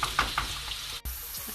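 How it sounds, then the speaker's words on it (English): Chopped onion fries in a pot over medium heat, giving a soft steady sizzle with a few light scraping stirs and a brief clunk, faint and close. "then we're gonna stir it up and keep your heat on medium"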